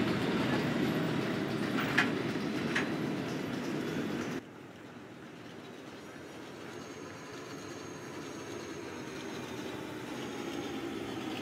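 A PTA subway train passes on the 5th Avenue line, with a loud rumble and wheel clatter for about four seconds that then drops away to a quieter, steady rolling hum and faint squeal.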